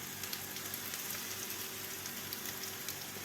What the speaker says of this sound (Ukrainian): Поки тут у нас шкварчить картопелька фрі, яка готується.